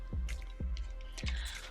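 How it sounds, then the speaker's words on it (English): A pink Mario Badescu facial spray with aloe, herbs and rose water is misted onto a face. Three quick pump presses sound close up, each followed by a short soft hiss of spray, evenly spaced. "So first, I take my Mario Badescu facial spray."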